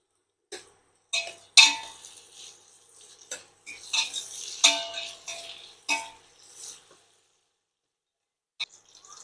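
Chicken biryani being stirred in a pot, with a string of scraping, clinking spoon strokes against metal coming in irregular bursts, then a pause and a final scrape.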